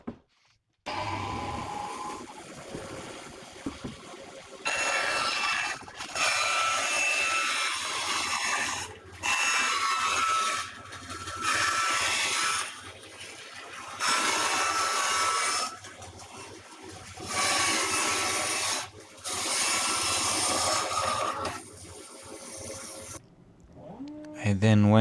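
A brand new wood strip is cut from a slab with a power saw during shutter restoration, loud bursts of cutting repeating about six times with brief pauses between them.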